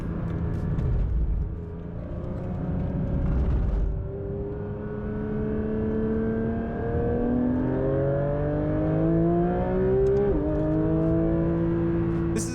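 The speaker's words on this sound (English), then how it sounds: "Here's what it's like to take that famous 90-degree turn from inside the car." A Porsche 911 GT3 RS heard from inside the cabin on a race track, its engine loud and close, revving up through rising gear pulls and dropping on shifts, with steady road rumble underneath.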